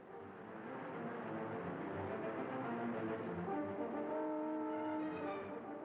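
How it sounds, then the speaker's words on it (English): Race cars from the 1962 Daytona 500 at Daytona International Speedway roar out of the fourth turn, a sustained blend of droning engines building and rising in pitch, heard at a moderate distance. "They roar out of the fourth turn."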